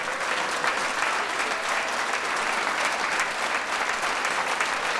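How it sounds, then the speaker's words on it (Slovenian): Steady, full applause from an audience at a jacket presentation performance, a thick continuous roar of many clapping hands holding at an even level throughout. "mislim, da si prav gotovo zasluži en aplavz"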